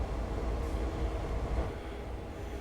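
A pair of SD40 diesel locomotives in Train Sim World 2 rumble steadily with a low, continuous engine drone and faint rail noise, heard alone at moderate level.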